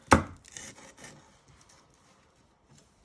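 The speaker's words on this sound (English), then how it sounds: "we're just finely slicing the chillies" A knife finely slicing chillies on a board: one sharp, loud cut at the start followed by a few quieter, scattered scraping strokes, then near quiet.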